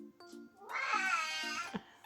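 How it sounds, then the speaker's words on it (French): A cat gives one long, drawn-out meow up close, over a soft repeating low hum. "Attention, vous allez l'entendre miauler dans 1,"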